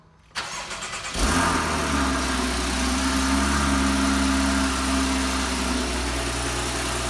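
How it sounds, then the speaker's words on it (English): A Porsche 981 Boxster that is under repair cranks for about a second and then catches. Its engine settles into a steady, close, loud idle that continues alone to the end. "Sounds like it wants to start."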